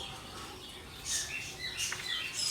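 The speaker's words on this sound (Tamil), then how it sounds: "லவ் பேர்ட்ஸுங்க" Lovebirds at a bird farm give high, chirping calls in scattered bursts that grow livelier partway through, close by over a soft background hiss.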